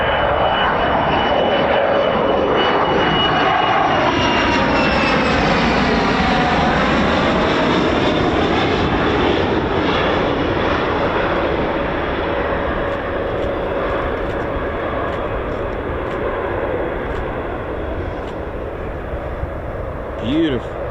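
A military fighter jet lands at RAF Lakenheath, a loud, sustained roar with a sweeping engine whine as it passes close by, fading slightly toward the end while people talk over it.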